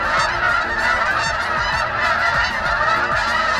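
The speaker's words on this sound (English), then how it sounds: "Never seen so many geese before in my life, all in one area." Many geese honking at once on a farm, a dense, continuous chorus of overlapping calls close by, with no gaps.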